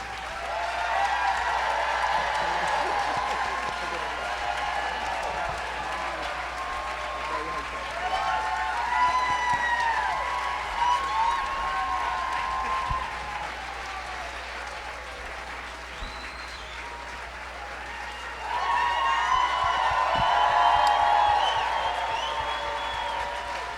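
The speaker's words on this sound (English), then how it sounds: "Can we have another round of applause for Brad Lander?" Audience applause at a livestreamed community event honoring Brad Lander, a steady roar of clapping that dips in the middle and surges again toward the end.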